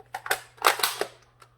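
Magazine being inserted into a Galil Ace pistol, a quick cluster of close, sharp metallic clicks and clacks with a final lighter click.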